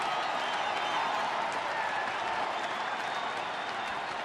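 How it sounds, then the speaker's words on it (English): A baseball crowd at a Red Sox game applauds and cheers steadily for Alex Rodriguez's introduction, a broad sustained roar of clapping from a large stadium audience, fairly distant and even throughout. "Crowd coming to life for the introduction of Alex Rodriguez"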